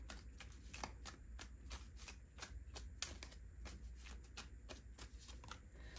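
Tarot cards being shuffled by hand, a steady run of quick, crisp riffling snaps repeating for several seconds, close and clear against a quiet room.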